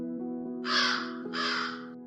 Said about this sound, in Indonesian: Wow, itu seekor gagak.